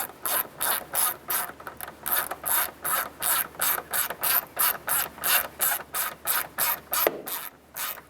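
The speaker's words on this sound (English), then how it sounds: "Snug the screws down." A ratchet clicks in a steady, rapid back-and-forth rhythm, close and clear, snugging down tail light screws on a 2002-2007 Jeep Liberty, with no talking.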